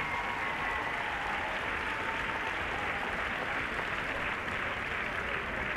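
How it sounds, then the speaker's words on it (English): A grandstand crowd at a young dressage horse world championship final applauds a horse and rider, a continuous, even wash of distant clapping that stays at a steady, moderate level without any breaks. "A big applause for this wonderful horse and rider combination."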